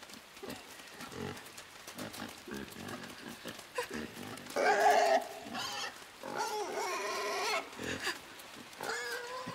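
Pig grunts and squeals from the video game Inside, several short nasal bursts rising in loudness midway, close and clear over a low game ambience.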